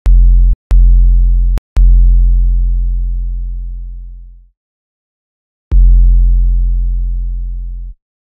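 Deep booming 808 bass notes, several long sustained hits that slowly fade, with short gaps and a pause before a final long note, loud and isolated.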